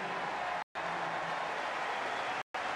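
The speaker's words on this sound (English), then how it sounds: "Good round of applause as Tommy Haas heads off the court" A crowd applauds at a tennis match as Tommy Haas walks off court. The clapping is steady, dense and moderately distant, with two very brief gaps.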